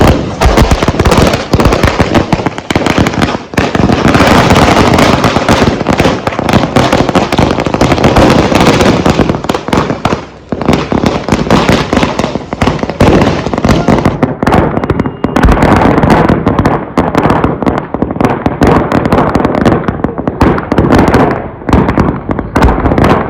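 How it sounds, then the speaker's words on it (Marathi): A long string of Diwali firecrackers bursts in rapid, continuous crackling pops, loud and dense throughout, barely pausing. "फटाक्याची माळ वन टू थ्री गो लावलेली आहे"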